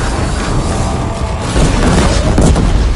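Disc launcher fire and explosions in Horizon Zero Dawn Remastered on PS5, heard as a dense, continuous run of loud booms and bursts that builds over a few seconds.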